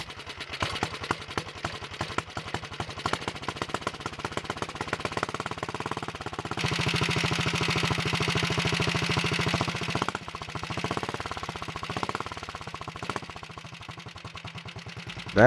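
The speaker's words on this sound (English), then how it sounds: "I got the engine running." A 1961 Wheel Horse model 401 garden tractor engine runs nearby with a rapid, hard-knocking exhaust beat. It revs up into a denser, louder roar for a few seconds, then settles back to a choppy idle.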